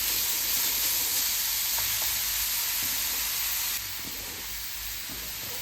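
Ingredients sauté in a hot pan for a quick Tamil tiffin-box meal, giving a steady close-up sizzle and hiss that drops slightly in level partway through and continues with faint stirring taps.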